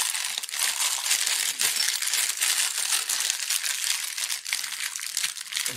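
Taped package of Forza 350 scooter parts being torn open by hand, steady close crinkling and ripping of plastic and tape with brief rustling bursts, continuous and fairly loud.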